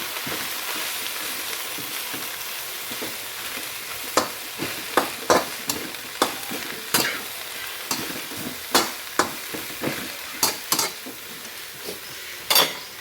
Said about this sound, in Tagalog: Siyempre haluin natin.